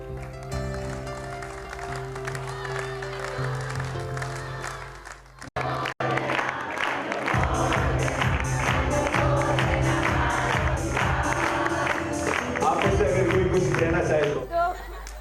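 An audience applauds and cheers after a Jain stage play, a dense wash of clapping swelling in after an opening of music and continuing steadily under talking voices.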